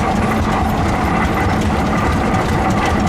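A small scale-model Oil Pull tractor engine built in 1971 runs at a farm show, giving a loud, steady mechanical chugging and clatter with a low rumble, close by and without pause.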